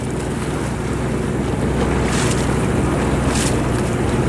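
Strong wind roars across the microphone aboard a sailboat during a race, with waves rushing and sloshing against the hull in a constant, loud, unbroken wash.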